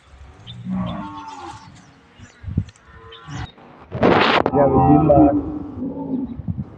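Cows moo loudly nearby, with a long deep low around the middle, while a person talks over and between the calls.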